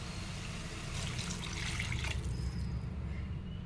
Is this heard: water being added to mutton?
yes